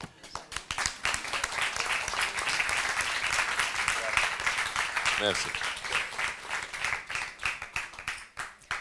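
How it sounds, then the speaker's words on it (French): Audience applause at a meeting with a film director, sustained clapping from many people for several seconds, close and fairly even, thinning near the end, with a brief spoken word and some talk mixed in. "Applaudissements"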